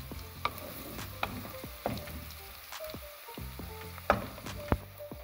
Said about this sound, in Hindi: तो अभी मैं टमाटर डाल रही हूँ।